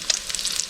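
Chinese sausage fries in a pan for Vietnamese fried rice. A faint, soft sizzle with small crackles lasts under a second, with no talking.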